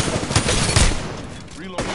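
Rapid video game gunfire in a live PS4 match, dense bursts of automatic shots up close with sharp peaks, a brief lull near the end before another burst.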